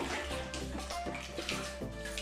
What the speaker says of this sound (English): clean off the trowel completely